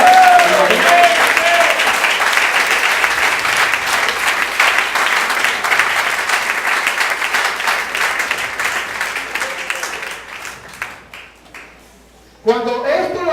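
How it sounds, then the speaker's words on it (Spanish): Church congregation applauding during a Spanish-language sermon, a loud sustained wash of many hands clapping that thins and fades toward the end before a voice resumes speaking. "Denle al Señor un aplauso, una gloria a Dios, una alegría."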